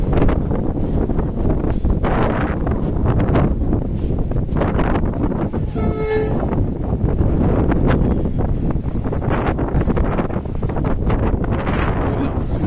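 Strong wind roars and buffets steadily throughout during a cyclonic storm with rain in Mumbai, with gusty rumbling pressure, loud and close, and faint voices underneath.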